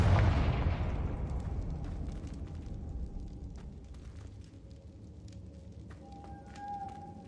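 A Confringo blasting spell goes off in Hogwarts Legacy, a loud burst at the start that rolls into a long rumbling decay, with faint game effects and a brief tone late in the fade.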